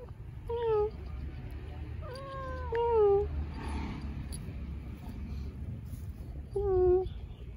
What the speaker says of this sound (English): Life must be so cool as a cat.